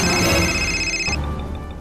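A phone ringtone from a Hindi crime drama rings loudly with sustained bright tones for about a second, then cuts off, leaving a fainter musical background with no talk.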